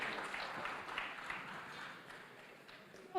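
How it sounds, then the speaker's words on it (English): Audience applause for panelists at the close of a FirstBank Fintech Summit session, soft steady clapping at a moderate distance that thins out before a voice cuts in at the end. "Please give our panelists a round of applause."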